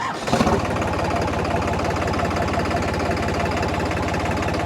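The engine of a 2025 New Holland 3630 4x4 tractor runs at a steady, close idle, a loud, even diesel chug with a brief louder burst at the start.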